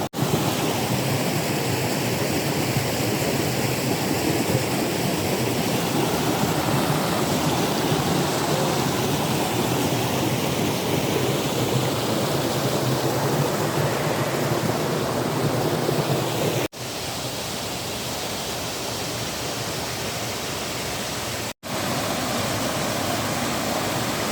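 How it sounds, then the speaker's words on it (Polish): Roaring 80-metre waterfall in Llangollen, Wales, heard from close beneath it: a loud, steady broadband rush of falling water that fills the whole scene, with a brief drop in level partway through. "Jest troszeczkę głośno, ponieważ jesteśmy właśnie pod największym wodospadem"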